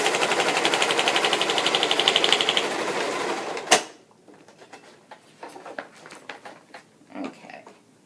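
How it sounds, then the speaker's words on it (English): A sewing machine stitching one side of a fabric clutch purse made from a children's book runs in a fast, steady, buzzing rattle for a few seconds, then stops abruptly, leaving faint scattered handling noises. "I'm going to sew up one side so you can see that."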